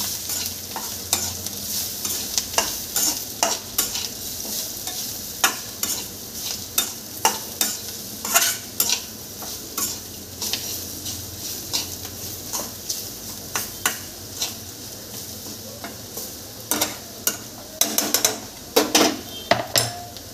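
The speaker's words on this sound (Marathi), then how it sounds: "कमी गॅसवर याला फ्राय होऊन द्यायचं चांगलं." Bitter gourd slices frying with masala in a pan on low gas, a steady close sizzle with frequent scraping and stirring clatter of a spatula against the metal, louder clusters of knocks near the end.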